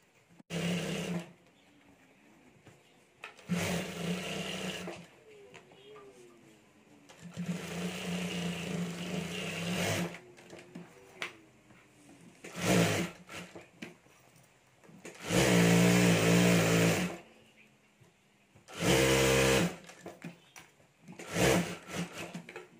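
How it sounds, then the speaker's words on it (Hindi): A sewing machine stitches the lining of a Banjara boho bag in several loud, steady whirring runs, separated by quiet pauses and shorter bursts. "और अभी यहाँ ऊपर हमें एक सिलाई कर देनी है, तो यहाँ भी मैं ऊपर एक सिलाई कर देता हूँ।"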